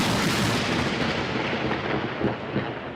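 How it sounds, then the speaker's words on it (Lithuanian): A lightning strike's thunder fills the whole stretch with a loud, dense, broadband rumble and crackle, close and sustained without a break, with no voices over it. "Kas nematėt žaibo video, čia trumpa ištrauka"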